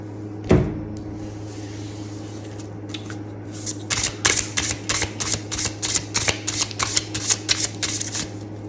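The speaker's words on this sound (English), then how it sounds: "I'm going to do a good hard shuffle." Tarot cards are shuffled hard in a quick run of crisp riffling bursts, close and fairly loud, after one sharp knock and a quiet pause.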